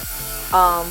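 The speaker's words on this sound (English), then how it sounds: "just using my drill to drill those holes" A cordless power drill boring holes in bed frame boards: a short whine that drops in pitch, then revs up higher and louder as the bit bites into the wood, close and clear.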